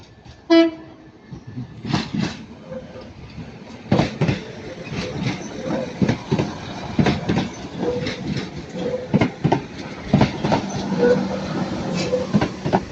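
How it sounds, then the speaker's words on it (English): A Class 197 Transport for Wales diesel train departs Manchester Piccadilly station, with a horn toot at the start followed by engine rumble and repeated rhythmic wheel clatter over rail joints, fairly loud and nearby. "And now departing is 197111 working the 1330 Transport for Wales service to Pembroke Dock."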